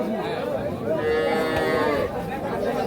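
Cattle lowing at a rural livestock market where cows with calves and a Sahiwal bull calf are being sold, a sustained moo rising near the middle over steady crowd chatter and bargaining voices.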